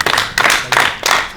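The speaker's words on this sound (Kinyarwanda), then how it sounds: "mwiyongera amashyi" An audience claps in bursts, four loud, close rounds of applause separated by brief dips, each lasting about a third of a second.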